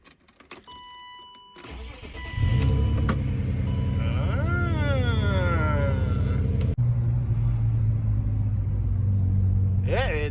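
A BMW E36 starts up through a new custom welded exhaust and settles into a loud, deep, burbling rumble with a few blips of throttle, heard up close.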